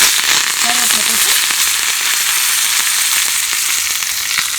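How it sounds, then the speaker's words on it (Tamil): Mustard seeds, asafoetida and curry leaves sizzle in hot oil with a dense, loud crackle and scattered sharp pops, steady throughout. "கடுகு போட்டு லைட்டாக பெருங்காயத்தூள் போட்டு கருவேப்பிலை போட்டு"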